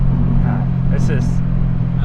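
A steady Cosworth-supercharged Scion FR-S engine drones from inside the cabin while driving, low and constant, with faint road noise throughout.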